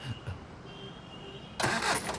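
A car engine cranks and catches at the end, a sudden loud burst of broadband engine noise after a quieter stretch with faint background sounds.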